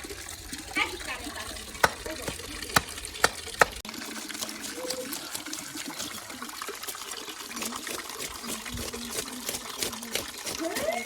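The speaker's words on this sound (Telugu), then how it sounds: "మా చెరువు నుంచి తీసుకొచ్చిన ఫ్రెష్ చేపలు మంచి కడిగి పక్కన పెట్టుకుంటున్నాను" Fresh pond fish washed by hand in water, with soft splashing, swishing and trickling close by, broken by a few sharp knocks early on and occasional light speech.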